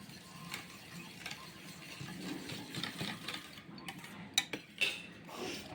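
A spoon clicks and scrapes rhythmically through egg paniyaram batter in a bowl, close and fairly quiet, with a couple of sharper knocks near the end.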